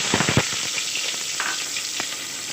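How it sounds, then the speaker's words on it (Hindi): Onions hit hot oil in a pressure cooker with a loud, close sizzle, a few sharp crackles and stirring scrapes at the start, then a steady frying hiss. "अब इसमें मैं ये प्याज शामिल करूँगी।"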